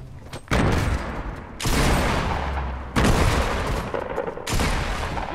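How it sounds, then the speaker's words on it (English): Heavy hand cannon fire in the Fortnite battle royale game, several loud, sharp booming shots spaced about a second apart, each with a long rumbling tail, with no talking over them. "Somebody's busting caps with a hand cannon, I think."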